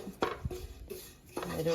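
Grated coconut is stirred and scraped in a pan while roasting for Kerala-style theeyal, giving close, irregular clinks and scrapes of a utensil against metal, alone with no talk.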